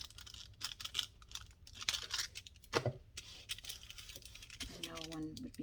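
Scissors cutting paper for an altered book, with close crisp snips and rustling as the paper is handled, while someone talks intermittently.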